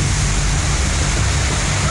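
A waterfall at Mussoorie produces a dense, steady rush of falling water, loud and close, with no pauses or voices.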